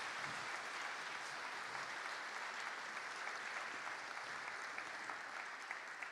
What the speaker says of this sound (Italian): Quindi un applauso di incoraggiamento.